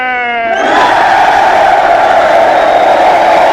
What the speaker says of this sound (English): the crowd is really getting animated, they're getting excited, you know, they're all cheering, punching their fist in the air